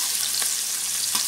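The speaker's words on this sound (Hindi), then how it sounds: "अब हमने 1 कप ऑयल में प्याज डाल दिए और इसको हम तकरीबन हल्का सुर्ख होने तक इसको स्टर फ्राई करेंगे।" Onions stir-fry in a cup of oil with a steady, bright sizzle and faint stirring scrapes, a short close crackle and no voices.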